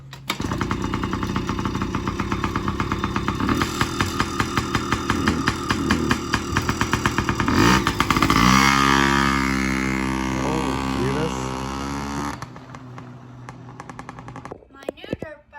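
A dirt bike engine from a garage collection that includes Yamaha, Honda and Kawasaki bikes starts with rapid popping firing, then revs and settles into a loud buzzing idle before cutting off, close by.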